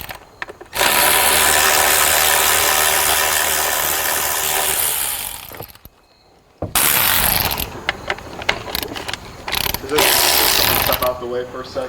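A ratchet undoes bolts on the engine of an Audi Q7 3.0L during valve cover gasket work, loud close clicking bursts that stop briefly and resume as rapid, uneven ratcheting.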